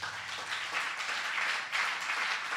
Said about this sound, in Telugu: అది ఒకసారి గట్టిగా చప్పట్లు కొట్టు